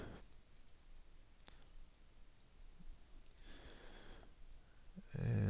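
A computer mouse clicks a few times at a desk in near-quiet, short faint ticks scattered across the stretch, with a louder rustling burst at the very end.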